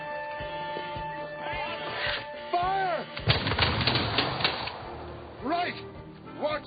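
Musket volley fired by ranks of soldiers on a battlefield, a loud ragged crash of several shots that spreads into rumbling gunfire, with shouted commands and horses neighing nearby.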